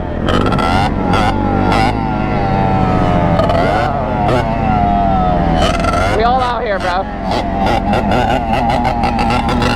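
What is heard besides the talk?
two-stroke Yamaha Banshee three-wheeler engine revving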